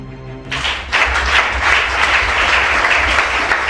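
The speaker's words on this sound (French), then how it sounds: "Acclame Shana." Church congregation applauding, a dense steady wash of many hands clapping that swells in after a brief low tone and carries on without pause.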